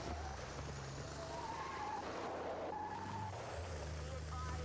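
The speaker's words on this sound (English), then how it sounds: "Oh good, we're gonna run right into this truck." A truck in the shooter Battlefield 6 on the Eastwood map drives close by, its engine droning and shifting pitch amid steady background game noise.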